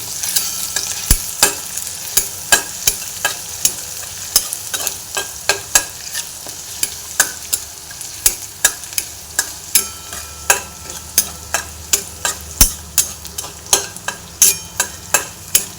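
Garlic, green chilli and ginger fry in oil for a red amaranth leaf curry, a steady close sizzle broken by regular sharp scrapes and taps of a spoon stirring in the pan, with no voices.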